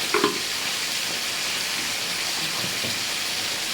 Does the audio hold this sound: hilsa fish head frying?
yes